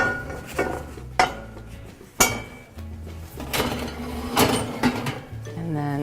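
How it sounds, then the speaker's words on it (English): A heavy pot lid clanks and clinks as it is set back onto a pot holding scored sourdough bread, with a few sharp metallic knocks amid soft kitchen handling noise. "with your mitts, just carefully put the lid back on"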